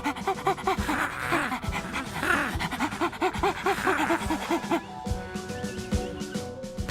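A dog pants rapidly with its tongue out, producing a steady, rhythmic series of close breathy huffs with a faint whimper, tapering near the end.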